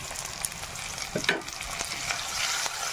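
Tomato frying in a pan with green chilli for chicken masala, a steady crackling sizzle with faint stirring scrapes throughout, close and moderately loud.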